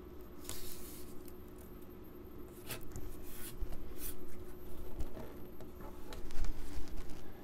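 Masking tape is pressed onto a guitar body right up against the fingerboard, giving soft rubbing, smoothing and crinkling sounds close by, in small irregular bursts over a faint steady background hum.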